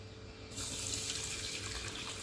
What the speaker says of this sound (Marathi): तर आता मी दलिया स्वच्छ धुवून घेणार आहे